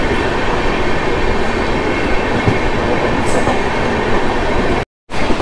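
The Hapa Duronto Express runs through Viramgam junction, heard from on board as a loud, continuous rumble of rails and wheels with faint clatter. It cuts out briefly near the end.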